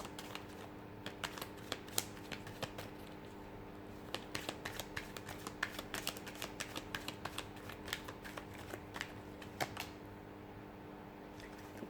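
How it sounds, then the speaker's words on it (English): Tarot cards being shuffled in a quiet room: a long run of soft, irregular clicks and riffles, with a faint steady hum beneath. "So we'll give the cards a shuffle"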